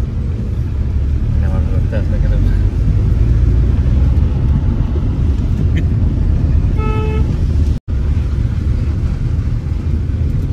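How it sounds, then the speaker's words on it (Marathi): Car speeding along a newly built village road at night, a steady loud engine and road rumble throughout, with brief horn toots near the middle and people talking over it. "बापरे, खतरनाक गाडी पळते एकदम हल्ली"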